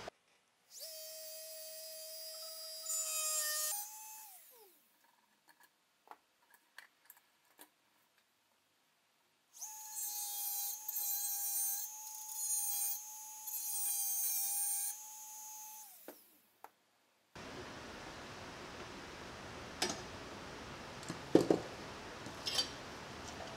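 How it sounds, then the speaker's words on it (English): A Dremel rotary tool cuts an opening for the wick in a metal kerosene lamp, giving two steady high-pitched whining bursts of several seconds each, separated by a quiet pause and followed by faint scraping handling noise. "take the Dremel tool and cut right around here in the opening for the wick"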